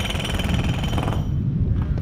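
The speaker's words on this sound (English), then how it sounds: "It's always nice to have the sound of jackhammers in your video" Jackhammer pounding continuously along one of the main walks of a game-recreated location, a loud, steady rapid hammering that fills the whole stretch with no voices over it.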